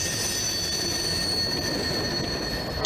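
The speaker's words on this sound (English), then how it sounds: "That is an awesome LTEX locomotive right there." An LTEX GP15-1 locomotive passes with its train, wheels squealing in sustained high tones over a rolling rail rumble, loud and close, with a sharp click right at the end.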